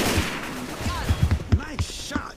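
Gunfire in the video game Left 4 Dead 2, a series of sharp, irregularly spaced shots mixed with game effects and excited player chatter.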